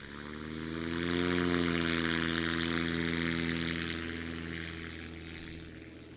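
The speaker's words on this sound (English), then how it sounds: "Tim Finesca and the Comanche coming to the line now." Piper Comanche airplane engine at the takeoff line, a steady propeller buzz with a droning harmonic hum that swells and then slowly fades, heard alone without talk.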